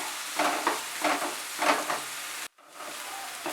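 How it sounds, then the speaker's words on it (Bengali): Onions fry in a pan over medium heat, giving a close, steady sizzle with rhythmic swells as they are stirred, then a brief break before the sizzling resumes. "মাঝারি আঁচে আমি একটু ভালো করে ফ্রাই করব"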